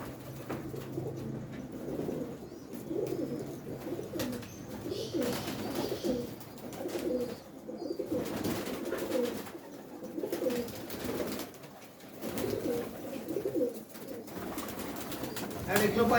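Pigeons of an old bloodline cooing in a loft, repeated low throaty coos in overlapping waves close by, with people talking quietly underneath.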